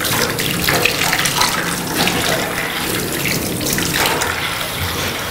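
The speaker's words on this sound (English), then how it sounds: "And then, again, wetting of the hands." Tap water runs in a steady, continuous rush as hands are wetted during a surgical scrub at a sink, close and alone with no talking.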